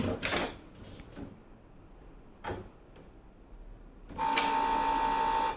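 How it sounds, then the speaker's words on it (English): A Canon Pixma inkjet printer clicks and clunks a few times as it tries and fails to grab paper, then a steady mechanical whirring hum runs near the end. "the printer tries to pick up the paper"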